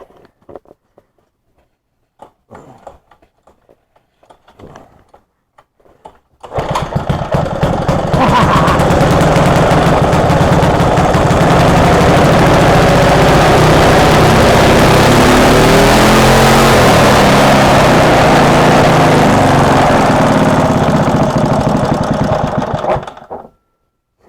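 A vintage mini bike engine, choke fully on, fires up after a few quiet knocks and then runs loud and steady for many seconds with a buzzy, rattling drone before cutting out abruptly.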